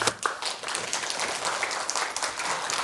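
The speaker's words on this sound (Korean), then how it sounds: "박수 소리가 작다." Quiet applause from an audience after a speech on development and disability, soft scattered clapping at a distance with individual claps audible, holding steady for a few seconds.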